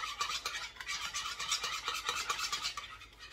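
A spoon or whisk stirs gelatine briskly into a berry cake filling in a bowl, making quick, rhythmic scraping and swishing strokes close up, with no talk.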